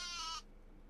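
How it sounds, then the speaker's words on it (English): A sheep on a farm in the video game Medieval Dynasty gives a single short, faint bleat that cuts off quickly into quiet background. "Sooner or later, we're going to get cows in here too, and more sheep."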